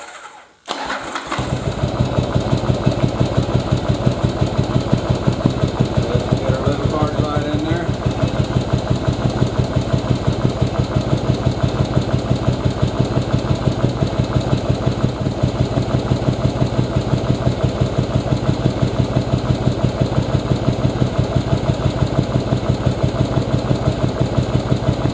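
A Yamaha Virago motorcycle engine starts and settles into a steady idle on its front cylinder only, the rear one disconnected, a loud, even, slightly uneven-chugging drone close by for the whole stretch.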